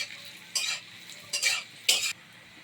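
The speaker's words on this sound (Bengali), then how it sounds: "আমাদের পেঁয়াজ ভাজা হয়ে গেছে" Onions frying in a pan over a quiet sizzle, stirred in three short scraping bursts of a spoon against the pan.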